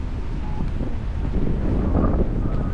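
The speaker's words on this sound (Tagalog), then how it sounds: "Malakas ang hangin." Strong wind buffets the microphone in heavy, continuous low rumbling gusts while parasailing in Boracay, with faint outdoor noise beneath.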